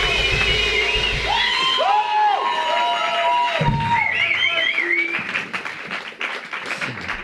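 Audience at a live band concert applauds and cheers for the singer, with whoops and high shouts rising over the clapping before thinning toward the end.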